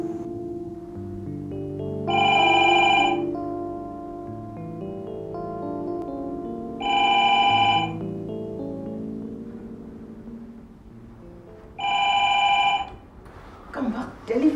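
A telephone rings in three separate bursts of bright, repeated trilling, each lasting about a second and spaced several seconds apart, set against quiet background music with a voice speaking briefly near the end.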